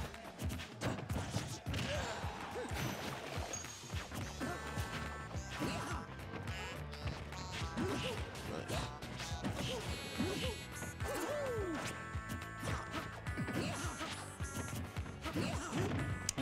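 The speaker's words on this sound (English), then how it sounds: "He's definitely trying to get these up smashes." Hits and smashes from a Super Smash Bros. Melee tournament match between Sheik and Mario: rapid, loud impact cracks and thwacks tumble over one another nonstop amid game music and effects, with commentary talk running underneath.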